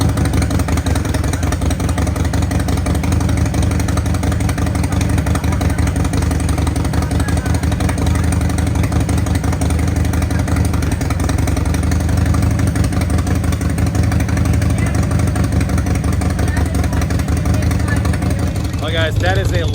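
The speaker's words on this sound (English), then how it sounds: "Just trying to get it all flushed out, trying to push all that fuel out of there with some fresh oil" A motorcycle engine runs steadily at a loud, even idle at a bike week rally while fresh oil is pushed through to flush excess fuel out of the engine, a constant mechanical drone throughout.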